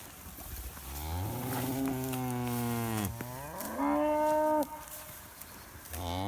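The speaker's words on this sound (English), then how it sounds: "Cows are happy, Niels is happy." Cows in a pasture give several long, loud moos one after another, close by, with the pitch gliding down and back up and brief pauses between calls.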